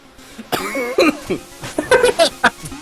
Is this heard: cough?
yes